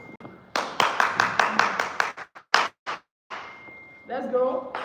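An audience at a live inspirational event claps hands in sharp, rhythmic bursts that break into a few separate claps, then give way to a person talking.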